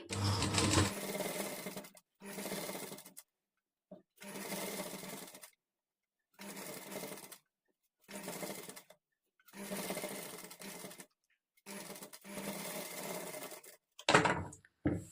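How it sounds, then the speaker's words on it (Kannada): A sewing machine top-stitches a blouse lining right beside the piping, running in seven or eight short whirring bursts separated by silent pauses, close and steady, with a brief clatter at the end. "ಮೇಲೆ ಒಂದು ಟಾಪ್ ಸ್ಟಿಚ್ ಹಾಕ್ಕೊಳ್ಳಿ ಈ ಪೈಪಿಂಗ್ ಪಕ್ಕದಲ್ಲೇ ಬರೋ ಥರ ಒಂದು ಸ್ಟಿಚ್ ಹಾಕ್ಕೊಳ್ಳಿ"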